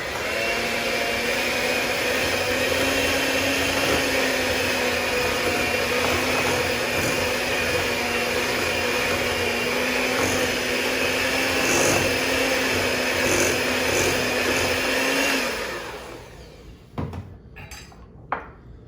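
An electric mixer beats eggs into cake batter for a SKOR bar cake, giving a steady, loud motor whine for about fifteen seconds that then winds down and stops, followed by a few light clinks.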